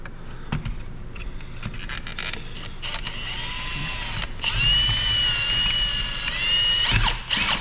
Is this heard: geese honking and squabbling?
no